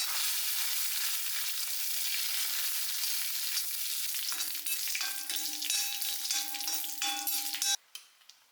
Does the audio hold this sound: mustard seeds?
yes